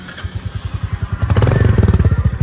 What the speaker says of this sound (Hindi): मेटियोर 350 का एग्जॉस्ट नोट भी आपको सुना देता हूँ